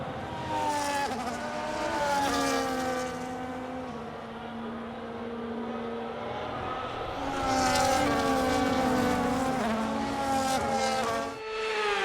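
Multiple F1 cars in the F1 25 video game on a formation lap at Abu Dhabi, engine notes layered and sustained with rising and falling harmonic whines, a dense loud buzz throughout with no talk.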